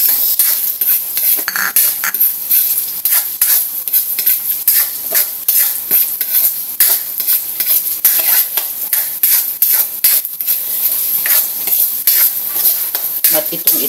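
Carrots stir-fry in a pan for leftover-rice fried rice, a loud, close, continuous sizzle with repeated scraping and clinking of a utensil against the pan throughout.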